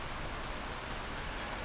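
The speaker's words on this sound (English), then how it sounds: "It's pouring rain." Pouring rain in the medieval city-building game Patron, a dense, even hiss of heavy rainfall that stays steady and unbroken throughout with no voices.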